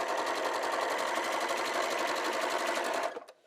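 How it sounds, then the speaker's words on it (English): Sewing machine stitching quilt fabric squares together under the presser foot, a steady rapid mechanical whir running continuously for about three seconds before stopping abruptly, with no talking. "align my square here so that it fits, put it up underneath the foot, and sew"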